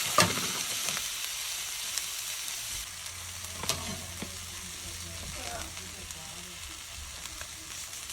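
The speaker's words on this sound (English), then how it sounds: "Now you're ready to put the lobster pieces into the wok." Lobster pieces frying in a hot wok, a steady crackling sizzle with a sharp burst at the start and occasional clinks and stirring scrapes throughout.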